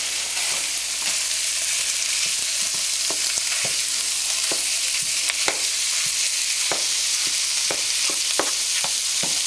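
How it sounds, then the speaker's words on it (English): Ground beef sizzles steadily in a pan for shepherd's pie as a utensil breaks it up, with a constant bright frying hiss broken by frequent sharp scrapes and taps against the pan. "I will just break up my ground beef here a little bit"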